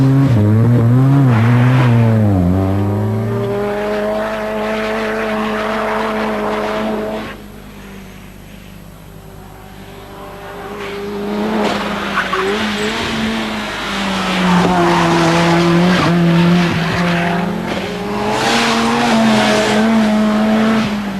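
A Ford Sierra RS500 Cosworth Group A race car is driven hard on a circuit, its engine revving up and down through gear changes with tire squeal, loud and close throughout.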